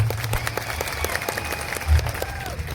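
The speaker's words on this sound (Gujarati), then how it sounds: "બધા જ માટે એકવાર આપણે જોરદાર તાળીઓ પાડી લઈશું" Crowd applause at a political meeting in Kavant taluka, a dense, steady patter of many hands clapping close by, with voices mixed in.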